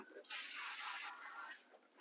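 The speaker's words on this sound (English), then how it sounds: "Spray it with your cooking spray." Cooking spray hisses from an aerosol can onto a baking dish in two quick bursts, a longer close spray followed by a brief second puff, soft and alone.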